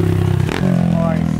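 A Honda CRF dirt bike revs hard during a wheelie on a street, its engine loud and close, the pitch dipping briefly before climbing again, with voices faintly behind.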